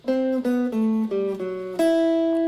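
A guitar plays a short descending run of single notes in a high register, six clear plucks one after another, then a final note left ringing, with no talking.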